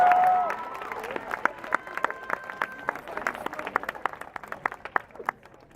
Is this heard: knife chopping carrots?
no